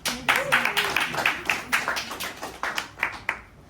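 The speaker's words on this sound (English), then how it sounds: "Big round of applause, please." An audience at a business reception claps in a short burst of distinct, fairly close handclaps with a loose rhythm, and a voice is briefly heard near the start.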